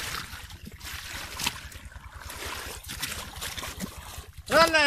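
Water gushes from a tube well into a field channel beside a road, a steady rushing trickle with low mechanical pulsing underneath, ending with a brief squeaky sound.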